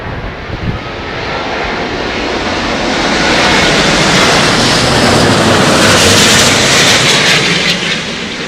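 A loud, continuous roar from an airliner landing in gusty wind at Heathrow Airport, swelling steadily as it nears and holding broad and heavy, with no voices.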